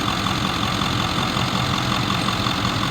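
A 2009 Ford F-550 XL stake truck idling, a steady, even engine rumble with a constant hum, close and continuous with no voices.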